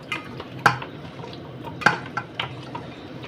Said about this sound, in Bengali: মাখামাখির পর্বটা আর কি চলছে